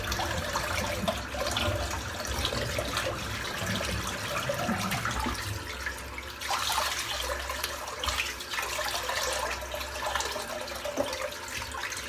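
Water running steadily into a bathroom sink, a continuous close rushing splash that keeps going without a break and with no talk over it.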